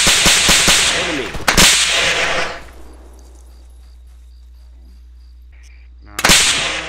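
A few loud, sharp shots crack at the start and again near the end, separated by a quiet stretch with faint ambient game sounds, in Arma 3 Insurgency.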